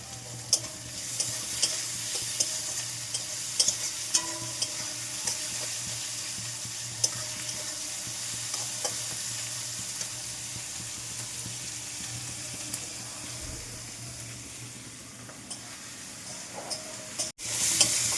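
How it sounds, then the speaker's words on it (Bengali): Steady sizzling of onions, garlic and chillies frying in a pan, with repeated scraping and stirring clicks throughout, close and continuous, and no voices. "পেঁয়াজটা ভাজা ভাজা হয়ে এসছে"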